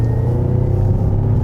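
Engine of a 2022 Renault Samsung SM6 TCe300 pulling in sport mode, a steady low rumbling drone heard close from inside the cabin.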